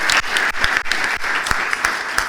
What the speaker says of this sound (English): So one more round of applause for this awesome panel.